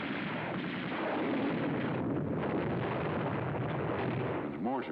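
Dense, continuous World War II battle noise of artillery and machine gun fire rumbles loudly throughout, with overlapping blasts and rattling shots and no pause.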